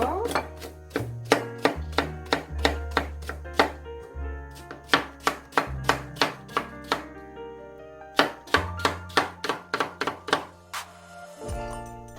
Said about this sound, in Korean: 곱게 채 썰어주도록 할게요.